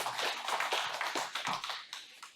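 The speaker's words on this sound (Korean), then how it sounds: "우리 하나님께 영광의 박수 하겠습니다." A church congregation claps in praise, with a dense spatter of hand claps that is loudest at first and then thins and fades over a couple of seconds.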